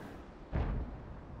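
A single tank gun shot in the game World of Tanks, one short muffled boom rising out of a low background rumble, moderately loud and heard alone.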